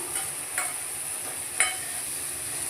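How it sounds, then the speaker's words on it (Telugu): Ginger garlic paste fries in oil for a chicken curry, a steady, even sizzle with two or three brief stirring scrapes, close and without speech. "బాగా అల్లం తెల్లగడ్డ పేస్ట్ కూడా పచ్చివాసన పోయే వరకు నూనెలో బాగా వేయించుకోవాలండి"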